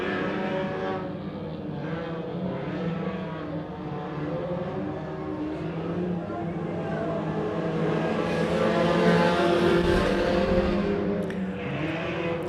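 Race cars circle a short track late in a race, a continuous blend of engine roar rising and falling as cars pass, steady and moderately distant, swelling louder near the end.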